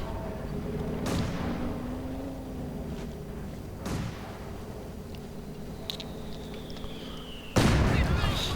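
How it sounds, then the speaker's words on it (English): A mortar barrage from the World War II strategy game Company of Heroes 2, heard as three separate heavy blasts spaced a few seconds apart over a low battlefield rumble. The last blast is the loudest. "Nice mortar barrage."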